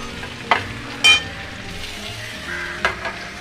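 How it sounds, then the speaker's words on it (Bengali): Chopped tomato and onion hit hot oil in a frying pan, a steady sizzle with a couple of sharp clattering spikes from the spoon and pan, close up with no talking. "এবার এর মধ্যে আমি অ্যাড করে দিচ্ছি টমেটো পেঁয়াজ"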